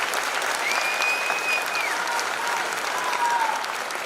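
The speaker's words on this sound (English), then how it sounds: "let's give them another round of applause for this achievement" An audience applauds graduating cadets at a Youth ChalleNGe Academy graduation ceremony, with dense, steady clapping filling the hall from start to finish and no pauses.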